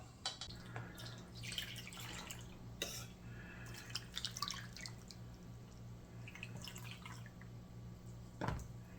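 Liquid marinade poured over venison strips in a container while making jerky, heard as close, light dripping and trickling splashes in short bursts, with a louder splash near the end.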